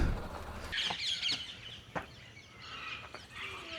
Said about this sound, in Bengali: উপরে যে পাখির আওয়াজগুলো আসছে এগুলো হচ্ছে টিয়া পাখি